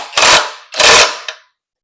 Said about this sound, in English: I'm just going to snug these up here with this impact